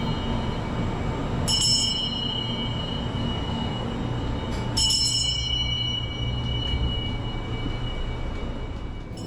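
A scenic train runs along a line in Kyushu, Japan, with a constant rumble of wheels on track and two sharp metallic bell rings near the start and middle, heard up close from onboard with no talking.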